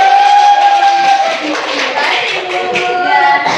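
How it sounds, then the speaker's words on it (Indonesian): A classroom of students applauds a group of classmates, with steady clapping over a busy murmur of voices that runs for a few seconds. "tepuk tangan untuk kelompok 1"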